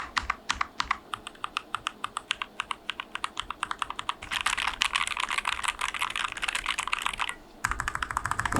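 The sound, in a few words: typing on Epomaker Carbon60 carbon fiber mechanical keyboard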